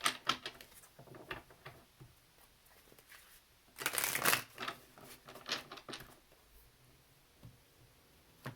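Soft papery riffling and tapping of tarot cards being shuffled by hand, with a louder burst in the middle, close and quiet otherwise.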